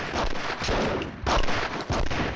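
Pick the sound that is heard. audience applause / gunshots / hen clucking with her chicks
gunshots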